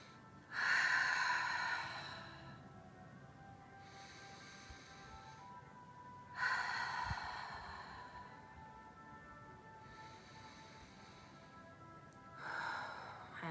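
Slow, audible breaths during a floor exercise, three long airy exhalations spaced several seconds apart, close and moderately loud over a quiet room.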